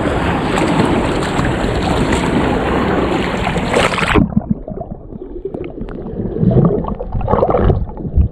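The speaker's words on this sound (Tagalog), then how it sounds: "Pa-high tide na kasi guys, kaya medyo malakas yung alon" Loud rushing wind and surging sea waves at high tide for about four seconds, then it drops to quieter lapping waves and gusts near the microphone.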